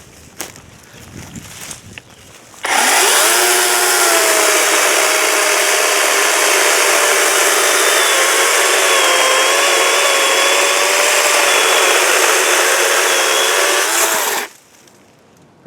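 A Kobalt 24 volt battery chainsaw cuts a chunk off a log for firewood, its motor whining up loud and close for about twelve seconds of steady cutting with slight pitch wavers under load, then stopping abruptly.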